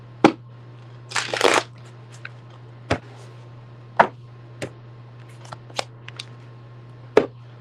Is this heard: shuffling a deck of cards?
yes